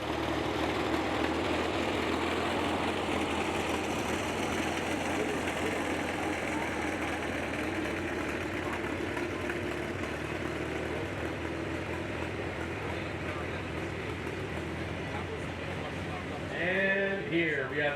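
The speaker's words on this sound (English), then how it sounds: "Here we have a very unique tractor. This is a Twin City KTA" An antique Twin City KTA tractor engine idles steadily throughout at a steam show, a constant low rumbling drone with a faint murmur of background noise.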